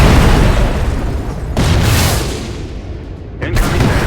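Anti-aircraft artillery fire in the Shadow Strike video game, heavy booming bursts layered over dense continuous noise, with a sharp blast at the start and another near the end, under game radio voice callouts.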